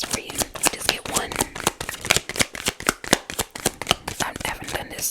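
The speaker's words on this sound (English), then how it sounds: "So let's get one of the cards from this deck, from the Emotions deck." Tarot oracle cards from an Emotions deck being shuffled, a rapid run of crisp card riffles and slaps repeating steadily throughout, close and fairly loud with no talking.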